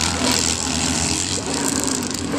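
Motorcycle engines from a display team ride on a damp course: a continuous loud, mid-pitched engine drone, fairly close and steady, with no distinct throttle bursts standing out.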